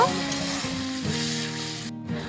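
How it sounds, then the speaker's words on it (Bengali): Onion, ginger, garlic and chilli paste sizzles and is stirred in a hot pan while an egg and pointed gourd curry is cooked, a steady close frying hiss with soft scraping and no talk. "এবার সব কিছু খুব ভালো করে নেড়ে নেব"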